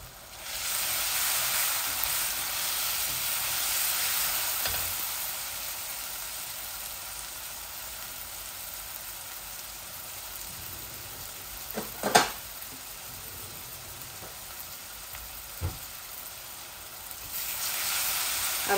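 Onions fry in a pan with a steady, close sizzle and hiss that runs throughout, with a few sharp clinks of a utensil against the pan now and then and no talking.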